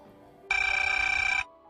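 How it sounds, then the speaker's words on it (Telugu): A telephone ringtone plays one bright, steady electronic ring lasting about a second, clear and close, with quiet room tone before and after. "రింగ్ అవుతుంది."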